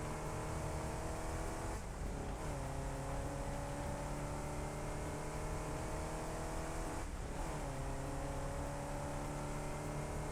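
A car driven in the video game Satisfactory hums with a steady, close engine drone that dips and climbs again twice, like gear shifts.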